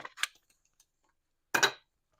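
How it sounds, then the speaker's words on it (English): Large scissors cut paper in two brief crisp snips, close and clear, with a quiet pause between them. "I'm going to take my big scissors"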